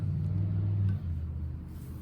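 A loud truck rumbles past outside, a heavy low engine drone that holds strongly and then eases slightly as it moves away, with no voices.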